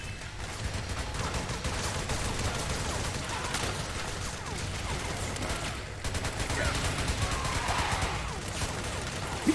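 Gunshots ring out in the video game Metal Gear Solid 4: Guns of the Patriots, dense overlapping bursts of fire that keep up for the whole stretch with no pause.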